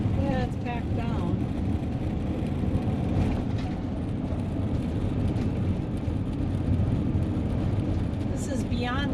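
A car rolls along a packed gravel road, its steady low tire rumble and road noise filling the cabin throughout, with people talking faintly at the start.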